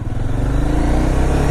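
A motorcycle engine idles and picks up slightly as throttle is gently given, a loud, close, steady throbbing rumble with no voices.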